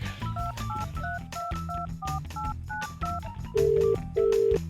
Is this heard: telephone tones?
yes